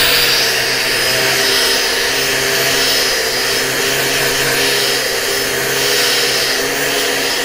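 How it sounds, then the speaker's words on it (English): An angle grinder fitted with a Velcro pad and 120-grit sanding disc blends down a weld, a steady loud whining drone that runs continuously with no talk. "I was using a 120 grit on the angle grinder, and you notice that this Velcro pad allows me to get pretty"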